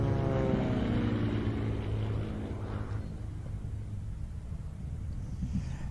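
Aerobatic airplane finishing an eight-point roll at the SUN 'n FUN airshow, a propeller engine tone falling in pitch as it recedes into distant, fading rumble.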